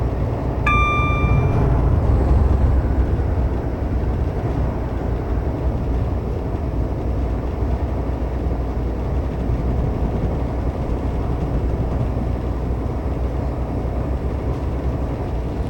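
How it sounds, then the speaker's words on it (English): A passing train in a train simulator game on the Midland Main Line between Sheffield and Derby, a loud steady rumble of wheels and engine roar that holds throughout, with a brief two-tone horn near the start. "Another train about to come through."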